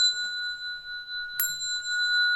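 A single bell strike rung to signal bowing in a Buddhist hall, with a clear sustained ring that hangs in near silence before a second sharp strike rings out and lingers.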